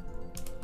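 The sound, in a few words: typing a command on a computer keyboard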